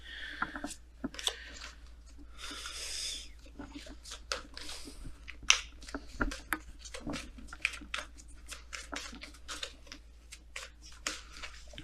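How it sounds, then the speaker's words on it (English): Romance angels oracle cards being shuffled by hand at close range, a long run of quick papery riffles, slides and taps with irregular rhythm, fairly quiet with a low hum beneath. "typically I don't spend 3 minutes shuffling cards"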